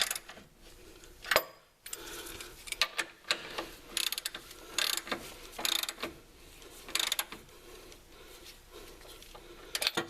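A bolt being snugged up with a wrench during truck reassembly, heard as a close, uneven run of sharp metallic clicks and ratcheting taps spread across the clip, fairly quiet and without talk.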